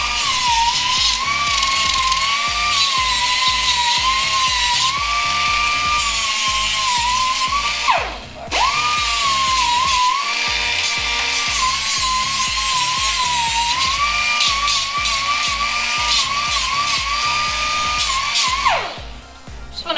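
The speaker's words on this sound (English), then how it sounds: "Grind it down so there aren't any sharp edges installing this thing" Power grinder smoothing sharp metal edges on a car fire extinguisher mount, a loud continuous high whine with a gritty grinding texture, dipping briefly twice as the tool spins down and back up.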